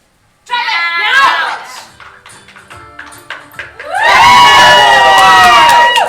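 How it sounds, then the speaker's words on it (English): A game show crowd yells and cheers, with a first burst of shouting, a brief lull with scattered voices, then a loud sustained roar of cheering and shrieks near the end. "Your crowd's going to yell for you when they think you should drop it."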